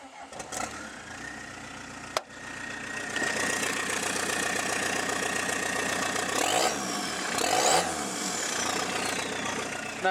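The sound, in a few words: engine idling and revving with no exhaust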